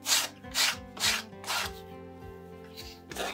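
150-grit sandpaper rasps across leather in about six even back-and-forth strokes, close and moderately loud, over a low steady background tone.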